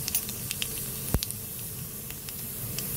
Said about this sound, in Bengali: দেখো কড়াইতে দিয়ে দিলাম কালো জিরে